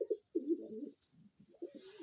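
Newly bought pigeons coo in short, throaty bursts, two quick ones followed by a longer rolling coo and another after a pause, faint and close by.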